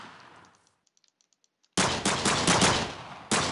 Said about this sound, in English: Let's try out the pistol first.